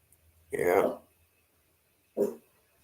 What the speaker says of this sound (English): Whatever you're barking at, it's not supposed to happen.